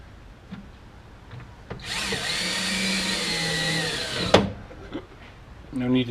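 A power drill whines steadily for a couple of seconds while driving screws into the plastic housing of a 2016 Toyota Tacoma TRD Pro grille, close and loud, with clicks and handling noises around it.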